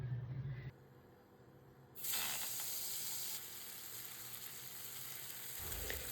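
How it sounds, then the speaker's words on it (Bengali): Bhetki fish pieces fry in hot oil in a pan, with a loud, steady sizzle and hiss close by that swells sharply partway through and continues without speech. "তাই প্রথমে হালকা করে মাছগুলোকে আমি ভেজে নিচ্ছি।"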